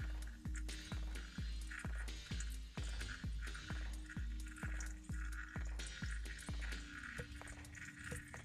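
Differential oil drains from a BMW Z4 E85 in a quick, even run of gurgling glugs and drips, faint but steady throughout.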